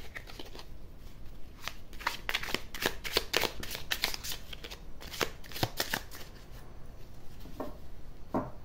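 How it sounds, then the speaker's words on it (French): Oracle cards being shuffled by hand, a quick run of crisp riffling flicks in bursts with short pauses between, close and fairly quiet, with no talking. "alors on va mélanger un petit coup les cartes"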